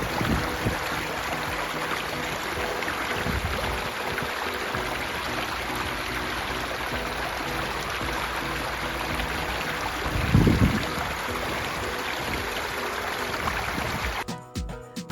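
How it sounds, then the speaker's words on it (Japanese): Water stream babbling through a Japanese garden in Tokyo, a steady broadband rush of flowing water with a faint high tone above it and a brief rustle near the end. "都心でこういう水のせせらぎの音が聞こえるのもとてもリフレッシュできますよね。"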